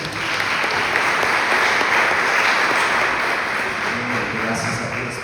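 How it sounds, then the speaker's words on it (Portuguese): A church congregation applauding during worship, with loud, dense, sustained clapping from many people. A few voices are faintly audible underneath. "Você pode aplaudir Jesus?"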